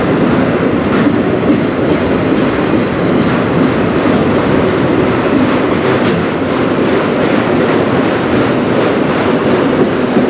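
An empty freight train rolls past on the Strathroy Sub near Sarnia, a loud, continuous clatter of wheels and rattling cars close by, steady for the whole stretch without voices.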